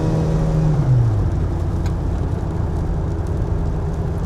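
A 1990s Ford Ranger accelerates as its transmission kicks down, the engine note dropping then steadily pulling in a loud cabin drone with a faint whine, no talk.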